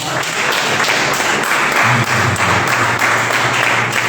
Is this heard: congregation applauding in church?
yes